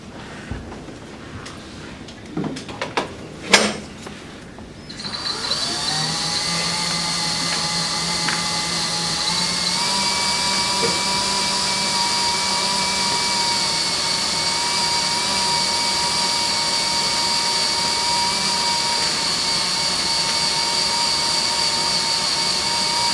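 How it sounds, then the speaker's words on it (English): A power drill bores into a broken bolt during extraction: a few handling knocks and clicks, then a steady, close, high-pitched whine that runs without a break. "it's not deep enough yet, which means we have to keep drilling"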